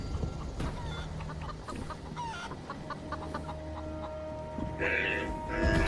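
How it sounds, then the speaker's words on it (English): Chickens cluck in Fallout 76, sitting in the shade by a water well. The short clucks repeat irregularly and sit close, with other game sounds running underneath. "Don't mind my chickens."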